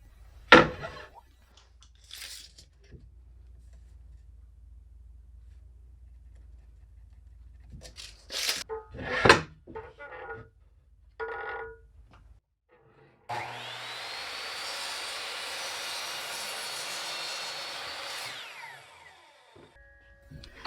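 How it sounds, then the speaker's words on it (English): A miter saw trims the excess off a 2x4 board. Scattered knocks and handling come first, then the saw spins up into a loud sustained whine for about five seconds and winds down. "I'm just going to use my miter saw to cut the excess"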